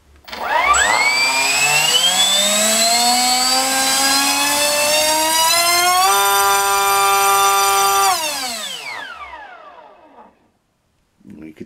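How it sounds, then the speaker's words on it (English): NTM Prop Drive 2836 2200kv electric motor spinning a small three-bladed prop on a thrust test, a loud close whine rising steadily in pitch, holding at a high scream, then winding down to silence. "I thought it'd be a laugh just to stick a small three-bladed prop on there."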